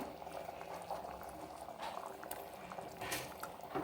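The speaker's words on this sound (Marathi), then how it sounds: "भाजी छान उकळली" A black chickpea curry simmers in a pot, a faint, continuous bubbling and gurgling heard close with no talk.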